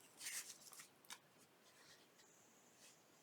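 Scissors snipping through paper and lace while decorating a journal, a few faint, soft cuts near the start and one brief snip after, with quiet pauses between.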